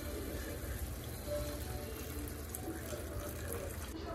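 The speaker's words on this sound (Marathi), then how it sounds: "हे पाणी जे आहे ना ह्याच्या आतमध्ये टाकायचं" Hot water pours steadily from a vessel into a cooking pot of Kolhapur-style chicken aalni rice, a continuous splashing rush lasting several seconds with no talk over it.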